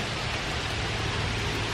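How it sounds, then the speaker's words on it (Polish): Strong wind and rain outdoors give a brief, steady hiss of broad noise with a rumbling low end, moderately loud and unbroken. "słyszycie ten wiatr?"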